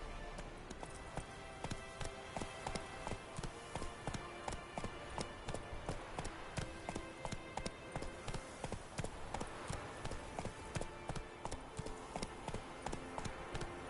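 Roach the horse gallops in The Witcher 3 video game, a steady rapid clip-clop of hooves pounding without pause from start to finish, close and even.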